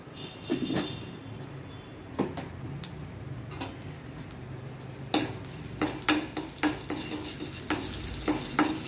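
Dried red chillies and asafoetida temper in hot oil with a soft, low sizzle. A utensil scrapes and clinks against the pan in irregular strokes that grow busier toward the end.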